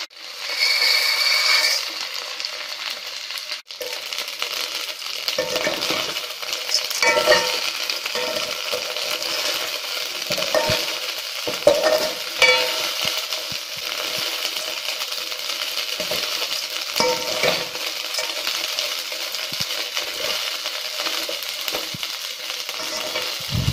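Vermicelli payasam mixture being stirred in a pan on the stove, a steady close sizzle with repeated scraping and clinking strokes of the spoon against the metal, continuing throughout without talk.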